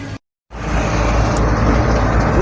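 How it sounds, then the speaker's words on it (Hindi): A car being driven along a bypass road, heard from inside as a steady, loud engine and road rumble that starts after a brief silence and continues unbroken. "भाई साहब गाड़ी चला रहे हैं"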